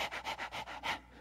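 A voice imitates rapid panting, quick rhythmic breaths in and out about six times in a second, close and fairly soft.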